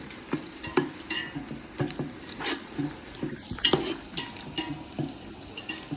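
Chicken biryani cooking in a pot: a spoon scrapes and stirs with repeated metallic clinks and knocks against the pot over a soft sizzle, in irregular bursts throughout, with no talking.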